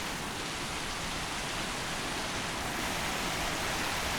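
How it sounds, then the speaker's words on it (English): Rain comes down hard during a storm over a garden, a loud, even wash of hiss that holds steady without pause and covers everything else. "I'm glad we're getting the rain."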